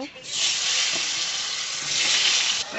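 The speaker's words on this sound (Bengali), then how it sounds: "গরম হয়ে গেছে এবার আলুগুলো দিয়ে দেব" Potatoes drop into hot oil already seasoned with whole spices, cumin, chillies and bay leaves, setting off a loud, steady sizzle that swells, holds for a couple of seconds and then cuts off abruptly.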